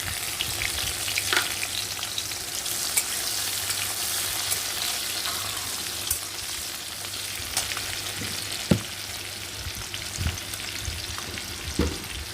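Crushed garlic fries steadily in hot oil for a jute-leaf dish, a continuous broadband sizzle with occasional sharper pops and stirring scrapes, close and moderately loud, no talking.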